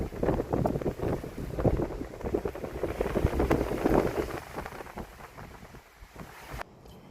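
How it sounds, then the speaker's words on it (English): Steady, roaring wind buffets the microphone in gusts in a dusty outdoor spot, a loud rumbling rush that runs the whole time and drops off abruptly at the end. "It's pretty dusty and very windy out here."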